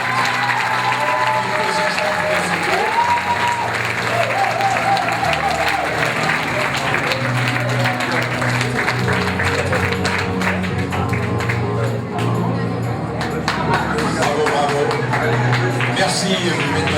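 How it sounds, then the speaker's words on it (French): Audience applause at a Miss Teen France 2015 pageant casting, a steady, dense clapping from a large crowd that runs the whole time, with cheers and voices mixed in. "Applaudissements pour toutes les..."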